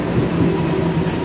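EMU727+EMU728 commuter train departing Ershui station on the Mountain Line, a steady low rumble of wheels and motors, heard continuously without voices.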